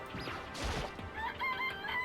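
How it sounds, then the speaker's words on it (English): A rooster crows in a video game, with a bright harmonic cock-a-doodle-doo call near the end, preceded by a brief crash-like burst and game background noise, moderately loud with no talk. "This place even has chickens, huh?"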